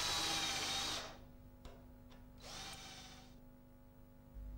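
A power drill boring a pilot hole for a screw whirs loudly for about a second, stops, gives two brief bursts, then runs again for another second before falling quiet.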